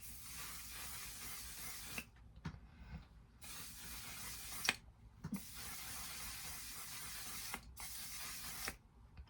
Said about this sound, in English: I'm going to go a little bit lighter with the one size setting spray